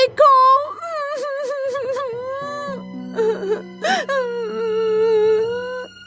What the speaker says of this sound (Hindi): बकरी के बच्चे के रोने की आवाज सुनकर गोल्डीलॉक्स की नींद खुल गई।